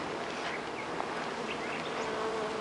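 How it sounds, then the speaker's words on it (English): Honey bees from a newly hived package hum and buzz steadily at the hive entrance, a close, continuous drone with individual bees zipping past. "you can see that there's a few bees left in their little transport cage there"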